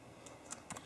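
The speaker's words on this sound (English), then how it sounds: "Then I'm gonna start typing." Soft, sparse keystrokes on a Sharkk keyboard case for the iPad Mini Retina, a few light clicks bunching toward the end, quiet and close with no speech.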